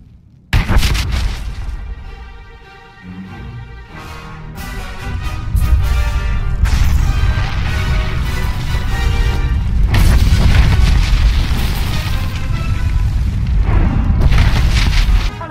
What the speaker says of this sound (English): Set off the bomb, and I'll spread the word.